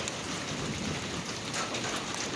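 Heavy rain storm pouring down over a vegetable garden, a steady dense hiss of rain without talk, close and loud throughout.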